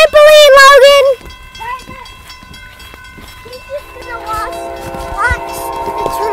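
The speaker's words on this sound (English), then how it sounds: "we get a lot of trains here. So if you guys hear the train sounds, that's perfectly fine." A train passes near a backyard: a brief loud voice comes first, then sustained horn-like tones and a low rolling rumble build steadily as the train draws closer.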